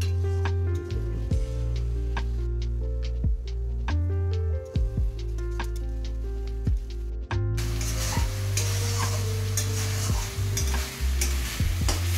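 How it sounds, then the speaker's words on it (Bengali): Spices sizzle and fry in a wok for a koi fish curry while a spatula scrapes and stirs in repeated strokes, loud and close, with no talking. "মশলা কড়াইতে দেওয়ার পরে ঠিকসে বেলচা মারবেন 5-7 মিনিট"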